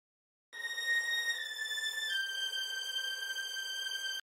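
A sampled violin from the Session Strings Pro 2 Kontakt library plays a sustained bowed melody of a few long held notes. The tone is clean and solo, with silence before and after.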